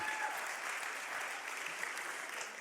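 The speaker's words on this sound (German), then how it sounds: "If one claps, we all clap." An audience claps together in a steady, dense patter of many hands that holds evenly throughout, with no one speaking over it.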